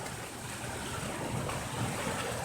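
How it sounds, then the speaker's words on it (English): Rushing floodwater from Peach Creek during a record flood, churning and splashing against the underside of a bridge, a steady broadband roar of turbulent water heard close and continuous with no voices. "Splashing off the bottom of the bridge."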